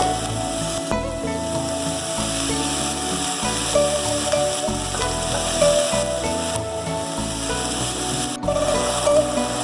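Onion, chilli and garlic sizzle loudly and steadily in a hot pan while a chicken momo filling is cooked, a dense frying hiss with scraping and stirring clatter, and no voices.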